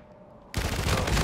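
Sub-machine gun fire in a video game breaks out abruptly after a half-second of quiet, a dense, loud rattling burst that continues to the end.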